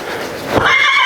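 A horse gives a single loud, close neigh, rising into a shrill whinny in the final half second, with no talking over it.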